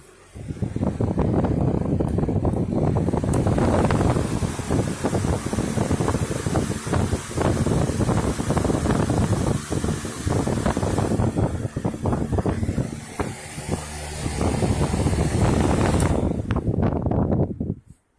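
A Patton HVF-SE 18-inch floor fan runs steadily at close range, giving a loud, continuous broadband whoosh of moving air that holds throughout before dropping away at the very end.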